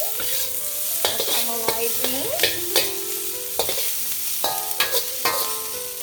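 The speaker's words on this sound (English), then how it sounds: "So quick stir it up. Now this guy is caramelizing." Onions stirred on a hibachi griddle, with seasoning nearby, caramelizing under a steady close sizzle broken by repeated sharp metal spatula scrapes and clanks in an uneven rhythm, with no talking.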